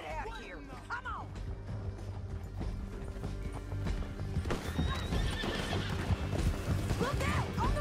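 A horse in the Red Dead Redemption 2 video game neighs with rising whinnies, then hooves clip-clop and gallop at a steady rhythm, with game sounds and voices mixed in.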